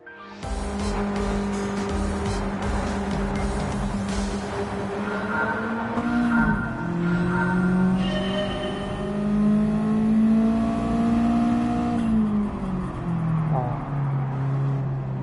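A turbocharged race car in Gran Turismo 7 screams through the gears, loud sustained engine roar with rising revs, tire squeal and a shift dip midway, turbo whine on top.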